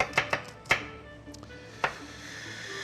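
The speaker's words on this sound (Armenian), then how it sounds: "սոխը կկտրատենք մանր" A knife chops an onion finely for pea soup, striking a board in several sharp, close knocks, a quick cluster at first and then a couple of spaced single chops, with no talking.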